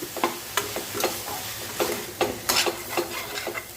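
Grated coconut and ground spices being sautéed in a pan, with repeated scraping stir strokes and a light sizzle in an irregular rhythm, close and moderately loud, no voices.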